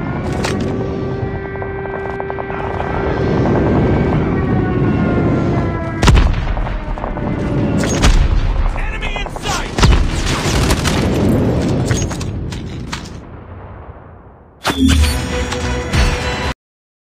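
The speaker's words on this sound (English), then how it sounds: "Friendly airstrike incoming." Airstrike explosions in Call of Duty Mobile: loud, continuous rumbling booms and blasts layered with gunfire, close and heavy, briefly dropping away before another sharp burst of explosions near the end.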